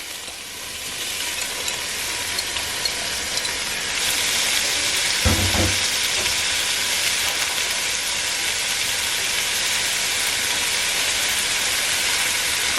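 Beef sears in oil in a Dutch oven, a loud continuous sizzle that swells as more meat goes into the pot, with a brief clunk partway through.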